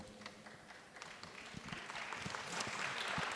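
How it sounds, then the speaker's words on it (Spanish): Scattered audience applause in an auditorium at a panel discussion on parenting and education, sparse claps building slightly and growing denser toward the end. "Ha despertado aplausos en el auditorio."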